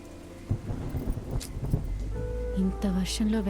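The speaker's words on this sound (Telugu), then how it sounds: "ఇంత వర్షంలో వెళ్ళడం అవసరమా?" Heavy rain pours steadily while thunder gives several rumbling bursts, partly mixed with music and faint voices.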